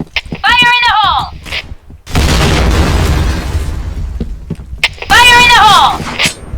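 In the Point Blank shooter, a grenade goes off as a loud, sustained explosion roar of almost three seconds. A shouted voice calls out before and after it.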